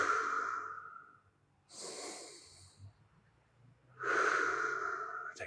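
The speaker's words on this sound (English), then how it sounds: "Take 5 deep breaths." Deep breaths drawn during a cobra pose in a jiu-jitsu yoga flow, slow loud nasal inhales and exhales alternating with quiet pauses, close up.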